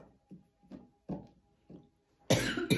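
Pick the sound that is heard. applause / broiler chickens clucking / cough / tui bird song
cough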